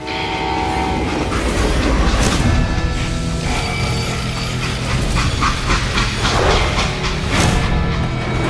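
A freight train from the Western shooter Call of Juarez: Gunslinger rolls steadily along the tracks with a continuous heavy rumble and rhythmic wheel clatter, and a horn sounds briefly within it, loud and close throughout.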